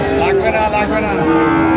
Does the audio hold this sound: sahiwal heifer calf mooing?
yes